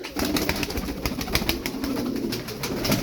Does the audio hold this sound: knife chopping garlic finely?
no